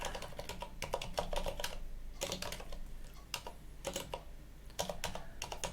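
Rapid typing on a computer keyboard during an Arch Linux install, with irregular bursts of quick clicks broken by short pauses, close and fairly quiet.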